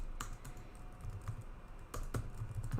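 Nearby computer keyboard typing in a teacher training session, with a handful of crisp key taps in two small clusters over a few seconds against a steady low background hum.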